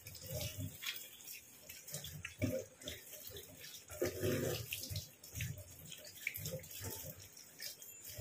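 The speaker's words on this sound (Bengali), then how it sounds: "আমি একটা একটা করে পাতা এরকমভাবে ধুয়ে নেবো।" Leaves are washed one at a time under running water, a soft continuous trickle with splashes and handling sounds close by.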